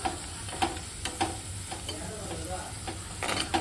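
Tomatoes being stirred into a pot of crab curry, with soft scraping strokes and a low sizzle of oil running steadily underneath, no voices.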